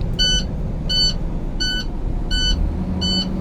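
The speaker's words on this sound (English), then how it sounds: "That noise we hear is the buzzer and the lights indicating that I have low air pressure." A truck's low air pressure warning buzzer beeps five times in an even rhythm, loud and close, over the steady low rumble of the engine revving at high RPM to build air pressure.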